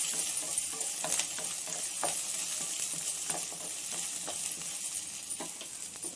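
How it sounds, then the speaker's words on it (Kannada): Cloves, cinnamon, green chilies, garlic and ginger frying in a pan with a steady close sizzle, broken by occasional light clicks from stirring, and no voices. "ಹಾಕಿ ಚೆನ್ನಾಗಿ ಫ್ರೈ ಮಾಡ್ತೀನಿ."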